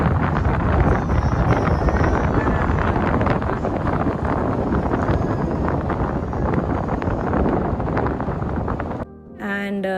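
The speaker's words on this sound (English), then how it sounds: "And that was the wind what you heard, because the wind was so much." Strong wind on Jebel Jais mountain buffets the microphone in a loud, continuous roar for most of the stretch, then eases briefly near the end as a voice is heard.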